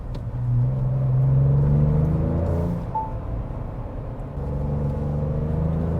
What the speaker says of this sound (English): If you press on the brake, the downshift actually sounds very good.